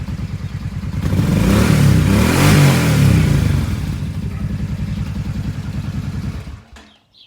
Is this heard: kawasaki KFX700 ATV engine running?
yes